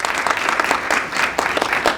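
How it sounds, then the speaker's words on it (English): Audience applause at the start of a speaker event, a dense steady wash of many hands clapping close and loud for the full two seconds, with no voices over it. "Give them all a round of applause as we get started."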